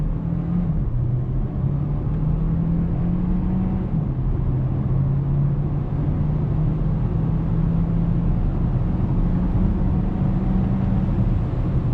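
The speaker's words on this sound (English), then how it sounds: "0 to 60 in sport mode." A 2022 Hyundai Tucson Hybrid Limited accelerates hard from 0 to 60 in sport mode, its engine drone heard from inside the cabin as a steady loud hum that rises in pitch, dips at a gear change, and climbs again.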